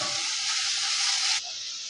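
Chopped tomato with salt sautéing in a hot pan, a loud, close, dense sizzle that drops abruptly to a softer hiss near the end, with no voices.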